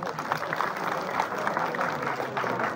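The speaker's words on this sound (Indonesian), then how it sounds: "tepuk tangan dong." A temple audience in a Bangli village applauds at a Calonarang performance at Pura Penataran Bale Agung, a brief, steady patter of clapping from a crowd at moderate distance.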